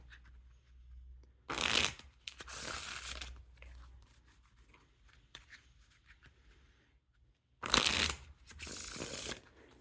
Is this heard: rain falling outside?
no